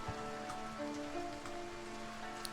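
Rain falling in the video game Foundation, a steady soft hiss of drops on surfaces running throughout without pause, with faint tonal game music underneath.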